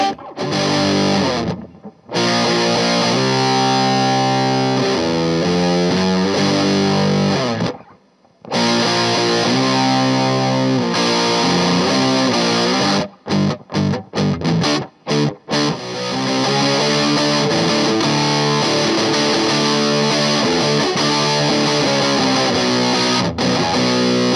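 An electric guitar played through an MXR Distortion Plus pedal rings out loud and saturated in sustained distorted chords and riffs, broken by a few brief silent gaps and choppy stops partway through.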